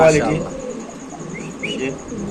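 Two male pigeons display to each other with low, throaty cooing, close by, as voices murmur faintly nearby.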